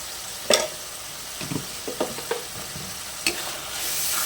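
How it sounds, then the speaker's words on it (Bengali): Ground spice paste of ginger, cumin and chilli with garam masala frying in oil, stirred to cook off its raw smell: a few spaced spatula scrapes and taps over a soft, steady sizzle, close by, with no talking. "দিয়ে ভালো করে মশলাটাকে কষে নেবো।"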